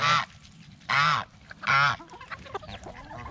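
Geese in a backyard flock give three loud, close honks in a slow, evenly spaced rhythm, with quieter bird sounds between them.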